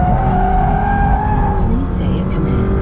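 A 2022 Subaru BRZ with a six-speed manual, pushed hard on a race track, engine droning loud and steady while its tires squeal in a long, close, continuous screech.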